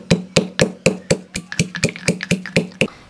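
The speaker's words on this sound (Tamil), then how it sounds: "ஒரு நாலு பல் பூண்டும் ரெண்டு சின்ன பீஸ் இஞ்சியும் எடுத்துக்கேன் இத வந்து நல்லா இடிச்சிட்டு சேர்த்துக்கலாம்" Garlic cloves and small pieces of ginger pounded with a pestle for a sardine fish fry, about a dozen sharp, evenly spaced thuds landing close and loud in a steady rhythm, with no talking.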